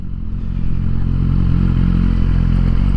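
A Suzuki GSX-R1000R motorcycle engine revs hard on a coastal ride, a loud, close, dense low roar that swells after the first half-second and holds strong throughout.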